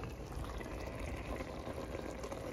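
Boiled pasta noodles being strained in a kitchen, water pouring and splashing steadily through a colander for a few seconds, a continuous rushing wash with no talk.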